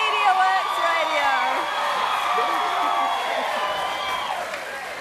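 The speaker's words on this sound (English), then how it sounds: "Yep, best cheer so far." An audience at the 2014 NZ Radio Awards ceremony cheers and whoops loudly, a dense sustained roar of voices that fades slightly toward the end.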